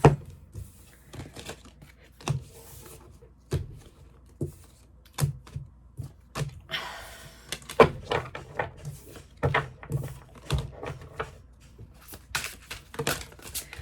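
A deck of card-reading cards being shuffled by hand, a close series of sharp snaps and riffling bursts in irregular clusters, with quiet pauses between them.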